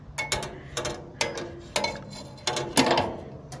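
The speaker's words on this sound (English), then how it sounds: "Next, you're going to want to take these baffles out" Metal baffles lifted out of a BBQ smoker, five sharp clanking scrapes at roughly even intervals, close and fairly loud with short metallic ringing tails.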